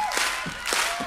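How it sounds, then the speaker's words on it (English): Audience clapping along in rhythm at a country music performance, a couple of broad crowd claps with cheering voices in the mix. "clap your hands"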